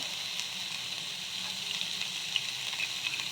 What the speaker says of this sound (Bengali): আদা, এগুলো সব আমি একটু সটে করে নেব।